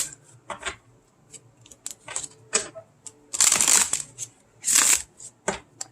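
Tarot cards being shuffled and handled at close range: papery riffles and slides in uneven bursts, with two longer, louder shuffling sweeps in the middle, no voice over them.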